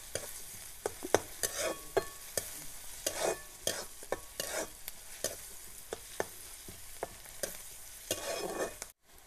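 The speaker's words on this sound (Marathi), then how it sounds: "तर आपला कांदा मस्तपैकी परतून झाला आहे" Onions sautéing with turmeric, chilli and spices in a pan: a continuous sizzle punctuated by frequent sharp scraping strokes of a spoon, close and fairly loud, with no talking.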